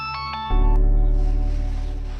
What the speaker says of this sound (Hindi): नाम लिया और फोन भी आ गया।